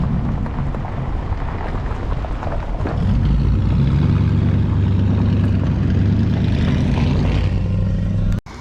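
A hacked-together Chevrolet K10 pickup truck with no gauges drives along, its engine a steady, loud low rumble that thickens and rises partway through, then cuts off with a brief thump at the end.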